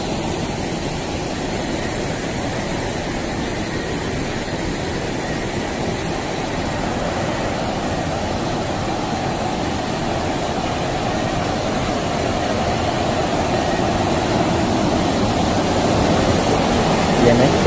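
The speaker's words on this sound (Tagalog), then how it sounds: "maririnig mo yung ilog guys" A river flows far below a deep drop beside an abandoned site, a steady, even rushing hiss that swells slightly toward the end with no clear breaks.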